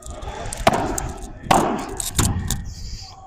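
Padel rackets strike the ball in a rally, three sharp, close thwacks spaced roughly a second apart with court noise between them.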